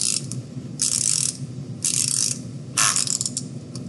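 Close, dry ratcheting clicks as a wind-up toy is wound in three short bursts, with a faint mechanical whir running underneath.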